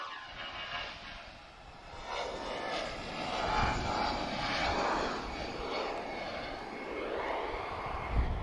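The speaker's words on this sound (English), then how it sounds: "One of the classic A320s," An Airbus A320 jet airliner roars steadily nearby at Lisbon Airport, its broad engine noise swelling and easing slightly over several seconds with no voices.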